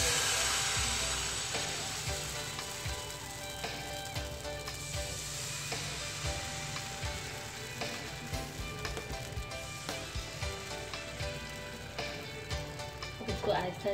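Liquid dough for an egg paratha sizzles steadily on a hot pan, a close, continuous frying hiss with small crackling pops throughout.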